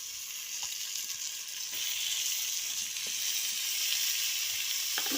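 Chopped tomatoes join onions frying in a pan for a potato and pea gravy, giving a steady close sizzle and hiss that swells slightly after they go in, with faint stirring and no talk.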